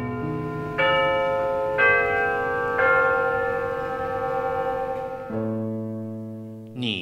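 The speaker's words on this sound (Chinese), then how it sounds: "钟声响起时" A resonant bell rings in three distinct, evenly spaced strikes, each leaving a long, shimmering ring that fades slowly, then a lower sustained tone takes over toward the end.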